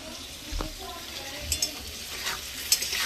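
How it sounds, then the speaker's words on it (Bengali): Potatoes sizzle and crackle as they fry in oil in a pan, with a few clinks of stirring and steady hiss throughout, close and fairly loud. "চলো আলুগুলোকে এখন ভেজে নেবো"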